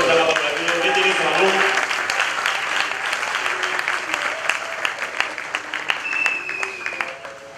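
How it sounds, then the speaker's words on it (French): Church congregation applauding, a dense wash of clapping that is loudest at the start and then thins into scattered, sharper claps, with a voice speaking over it. "Acclamez la voix de gloire."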